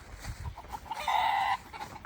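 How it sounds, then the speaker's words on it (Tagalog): A brief nasal cluck from a chicken on a farm sounds over faint background noise; the call is short and fairly quiet, with soft thumps just before it. "Yung mga manok nila doon."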